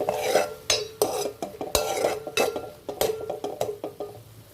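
Chicken keema masala with homemade garam masala and coriander powder stirred in a pan, spoon clinking and scraping against the metal in a steady rhythm of close, sharp strokes, with no voice over it.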